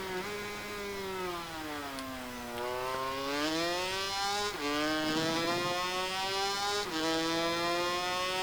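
A 500cc two-stroke racing motorcycle in MotoGP 19's historic challenge, a loud buzzing engine note rising and falling steadily through corners, shifting gears with sharp pitch drops, heard close with no talk.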